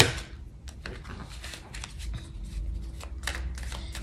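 A deck of tarot-style cards is shuffled for a reading, giving quick, close, crisp riffling and slapping sounds in short irregular bursts.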